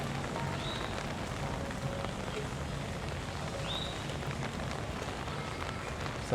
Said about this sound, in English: Well, the rain's letting up a bit.